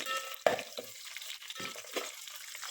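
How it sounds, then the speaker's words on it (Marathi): A spatula stirs onion sautéing in a pan for vegetable biryani, with close scraping strokes and a sharp clank against the pan. The stirring comes in uneven bursts, and no one speaks. "कांदा असाच भाजून घ्यायचा आहे तळ्यासारखा, म्हणजे खूप छान बिर्याणी होते."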